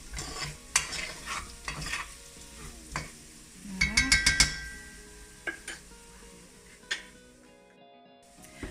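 Rougail saucisse being stirred in a frying pan, a soft sizzle under repeated clinks and scrapes of a utensil against the pan, including a quick burst of metallic taps near the middle.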